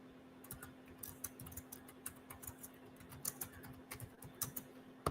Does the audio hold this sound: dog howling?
no